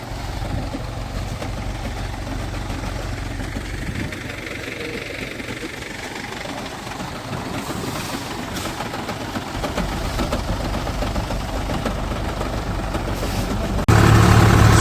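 A farm tractor engine runs steadily in an open field, a continuous low rumbling drone with a throbbing, knocking texture that holds at an even level and grows slightly louder toward the end, with no talking.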